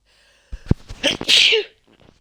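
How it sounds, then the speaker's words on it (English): A single person sneezes loudly and close: a sharp intake of breath, then a forceful burst that quickly fades to quiet. "I'm starting to sneeze."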